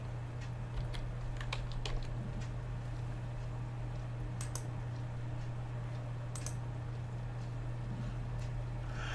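Someone types an email address and password on a computer keyboard, a quiet series of scattered light key clicks over a steady low electrical hum, close by, with no voices.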